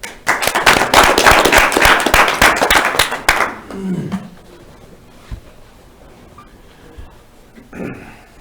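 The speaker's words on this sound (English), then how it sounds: "anybody that wants to get it, hey, let's clap" Dense audience clapping, loud and fast for about three seconds, then stopping abruptly and leaving quiet room noise with a few faint sounds.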